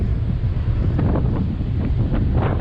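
Strong wind buffets a small Ryze Tello drone's microphone in flight, a constant heavy low rumble with gusty surges throughout.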